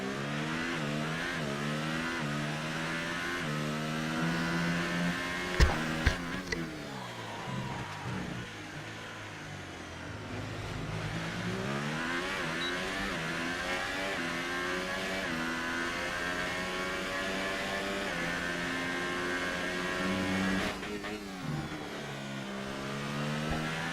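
Formula 1 car on an outlap during Bahrain practice, its high engine note revving steadily and climbing and falling through gear changes, loud and continuous throughout, with a brief sharp knock in the middle.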